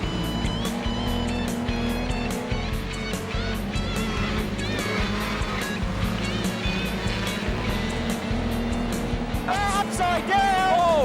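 Speedcar race cars lapping a track during a 50-lap classic: a continuous loud roar of several engines with revving pitch sweeps, heard from trackside without break, with a commentator's voice faintly under the noise.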